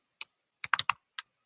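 Keys clack on a computer keyboard in a quiet room, several sharp separate taps with a quick cluster in the middle and short pauses between.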